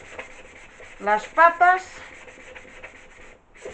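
Short, rhythmic scraping strokes of hand sanding on antique wooden furniture legs close by, briefly interrupted by someone speaking a short phrase in Spanish.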